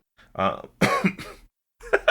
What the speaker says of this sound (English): Coughs into the podcast microphone